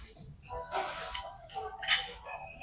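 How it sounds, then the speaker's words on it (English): Pierogies slide off a metal skewer at a tavern table, giving a few faint metallic scrapes and light clinks spread across a couple of seconds. "I'm going to slide them all off of the skewer and set the skewer aside"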